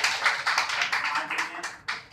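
Applause at a workers' federation award ceremony honouring Corona warriors, a dense patter of many hands clapping with irregular bursts, fairly close and continuous for a couple of seconds.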